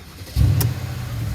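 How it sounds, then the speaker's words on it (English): Mercedes-AMG GLE63 coupe engine starting, a brief cranking click followed by a sudden deep roar that settles into a loud, throaty idle close by. "Let me just start the engine now."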